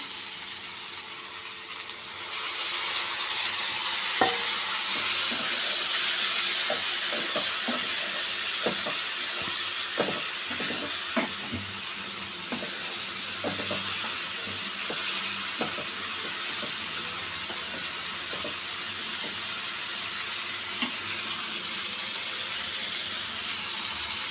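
Fried potatoes with masala spice added, sizzling in a pan on a gas flame turned low: a continuous bright hiss with scattered clicks and scrapes from a utensil throughout.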